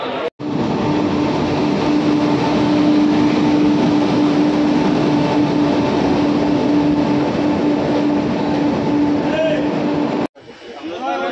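Padatik Express train at a station, a loud, continuous rumbling roar that holds steady for about ten seconds before cutting off abruptly.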